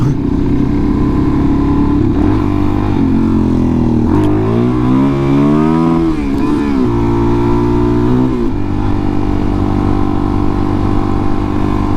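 A Suzuki DRZ400sm single-cylinder motorcycle roars close and loud, its engine pitch climbing steeply as it accelerates into a wheelie, then dropping back to a steady drone.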